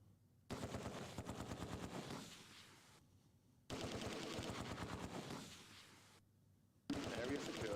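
Bursts of rapid machine-gun fire from a WWII tactical battle game, Close Combat 2, set near Arnhem with British paratroopers; three loud sustained volleys separated by short silent gaps, each rattling continuously for a few seconds.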